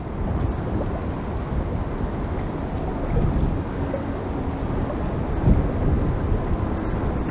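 Gale-force gusty wind buffets a microphone beside a fishing venue, a heavy low rumbling roar that swells and surges with each gust, with no voices heard.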